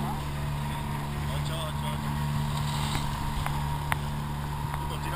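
Motorboat engines drone steadily during a large sailing regatta in Trieste, a constant low rumble mixed with wind and water noise, with faint voices in the background.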